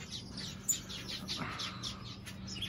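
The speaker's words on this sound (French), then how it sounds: "Regardez là, la femelle canarette." A female canary chirps in an outdoor aviary, with repeated short, thin tweets coming quickly over a steady low background rumble.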